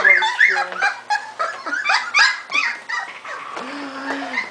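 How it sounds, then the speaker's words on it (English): Three-and-a-half-week-old puppies whimper up close in a run of high, squeaky whines and yips, some rising and falling in pitch, with short gaps between cries. "We're having a Ginger and a Sofie's puppy in here, sleeping"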